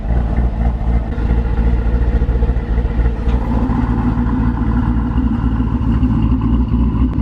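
A twin turbo Chevrolet Camaro ZL1 idles with its exhaust valves open, a steady, loud, slightly loping rumble running continuously and close by with no pauses.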